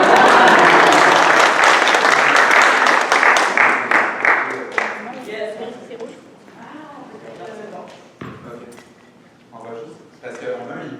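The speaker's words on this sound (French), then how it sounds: "On peut quand même l'applaudir." Audience applause at a French-language launch event, loud and dense at first, then thinning into scattered claps and fading over several seconds as voices and room noise take over.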